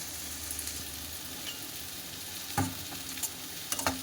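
Maggi noodles with colourful vegetables sizzle in a pan, a steady soft fry broken by a few scraping stirs of a utensil, close and fairly quiet.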